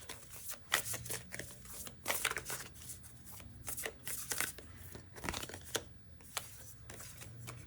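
Moonology oracle cards being shuffled by hand, a steady run of soft riffling and slapping card bursts, close and fairly quiet with no talk.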